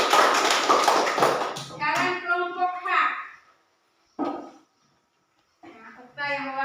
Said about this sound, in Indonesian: Iya, tepuk tangan untuk kelompok kewajiban.